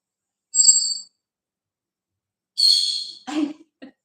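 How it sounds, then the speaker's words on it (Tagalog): A bird gives a couple of sharp, high calls separated by silence, loud and close, followed by a brief lower squawk. "Maingay yung ibon ko dito."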